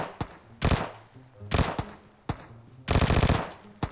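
Bursts of automatic gunfire in the PUBG Mobile battle royale game, several rapid volleys fired close and loud with short pauses between them.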